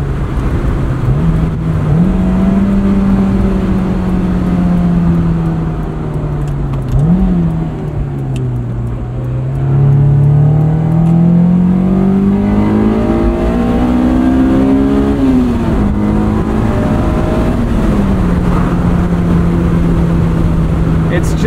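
A 2003 Honda S2000 with 19k miles drives along steadily, its engine note rising and falling as the revs climb and drop through gear changes. The hum stays loud and continuous under constant road and wind noise.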